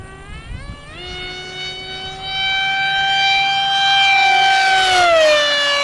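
A small RC aircraft driven by a BadAss 2826-1360KV brushless motor makes a low-speed pass, its steady motor whine rising in pitch as it nears and then dropping sharply as it passes, loud throughout with no talking.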